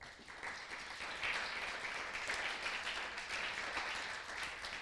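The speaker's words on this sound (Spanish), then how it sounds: "Vamos a dar un aplauso en el servicio más callado" Church congregation clapping together during a quiet worship service, a soft, distant, even wash of applause that holds steady without voices.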